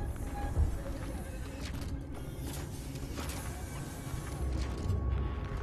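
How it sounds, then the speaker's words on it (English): Mechanical doors in the survival horror game Alien: Isolation creak and grind over a steady low machine rumble, with a heavier clunk near the end and no voices. "Stop making noise with the fucking doors."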